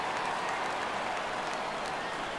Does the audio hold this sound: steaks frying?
no